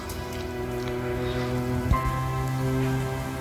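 Rain falling steadily on an okra patch during harvest, a constant patter of drops with a brief knock near the middle and a faint tonal hum running underneath.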